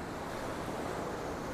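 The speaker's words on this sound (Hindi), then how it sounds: "मैं सोचा नहीं था इसकी जो लहरें होती है वो इतना ज़्यादा आवाज़ करती होंगी" Sea waves surge and crash steadily at Anjuna Beach in Goa, a loud, continuous roar of surf with wind rushing over it and no voices.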